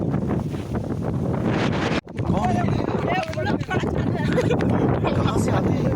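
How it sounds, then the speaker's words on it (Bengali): Stormy wind roars loudly and steadily into the microphone with heavy buffeting throughout, a brief drop near the middle, while people talk underneath the gusts. "আজকে আমাদের ঝড় উঠেছে তোরাই দেখ কেমন লাগে"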